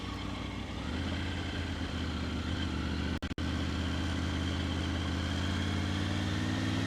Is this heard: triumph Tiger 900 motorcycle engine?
yes